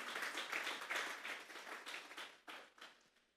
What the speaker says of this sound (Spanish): Vamos a darle una ofrenda de palmas a Dios en esta mañana.